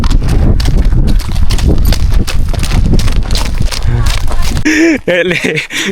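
A Mongolian horse fitted with shoes for the first time, its hooves clip-clopping loudly and close in a fast, uneven rhythm, with a person talking over the steps.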